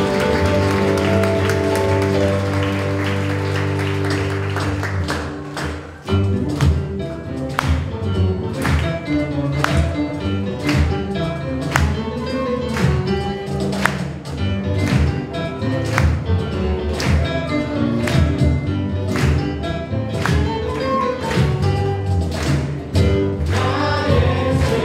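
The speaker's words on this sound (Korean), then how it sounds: "그 하나님께 감사와 찬양의 박수를 올리기 원합니다" Church congregation clapping rhythmically in praise during a Sunday worship service, steady hand claps in time over loud music throughout.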